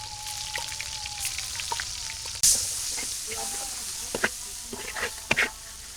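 Onion and garlic paste with chopped onion sizzling steadily in a pan for a Bangladeshi beef curry, a continuous frying hiss with occasional sharp pops and spatters and a few faint kitchen clinks, no talking.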